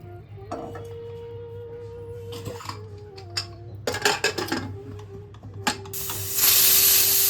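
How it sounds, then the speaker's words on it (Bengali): Water is poured into a pressure cooker over washed olives for a chutney. A few metallic clinks and knocks come first, then a rushing, hissing pour builds near the end, close up under a steady low hum. "জল ঢেলে দিলাম।"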